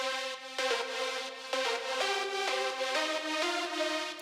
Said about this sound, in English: Then the second layer sounds like this